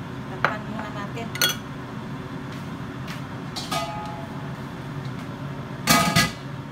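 Metal cookware clinks and clatters as a lid goes onto a pot of squid being softened on the stove, a few sharp separate knocks against a steady background hiss.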